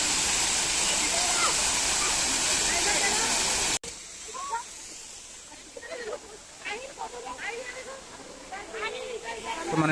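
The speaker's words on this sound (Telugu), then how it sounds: "బ్యూటిఫుల్ ఫౌంటైన్ అయితే ఉంది వాటర్ ఫౌంటైన్" A water fountain at Nehru Zoological Park in Hyderabad gives a loud, steady rushing splash for about four seconds. After an abrupt cut, people talk over quieter outdoor ambience.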